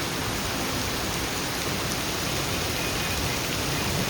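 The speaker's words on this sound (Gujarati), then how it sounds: "વરસાદ ભારે વરસાદ" Heavy rain pours down in Chandigarh, a steady, loud and unbroken hiss of falling water with no voices.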